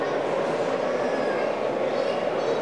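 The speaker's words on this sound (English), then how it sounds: "So this Santa Fe train will come through," An N scale Santa Fe model train runs along its layout with a steady, continuous rolling rumble and faint rail clatter, close by and fairly loud throughout, with no clear talk over it.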